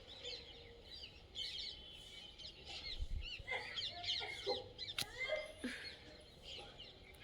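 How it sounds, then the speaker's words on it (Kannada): Birds call and chirp in the morning alongside rooster-like clucking fowl, several overlapping calls at moderate distance against a steady outdoor background. "ಬೆಳಗ್ಗೆ ಪಕ್ಷಿಗಳು ಎಷ್ಟು ಚೆನ್ನಾಗಿ ಒಂಥರ ಸೌಂಡ್ ಮಾಡ್ತಾಯಿದೆ"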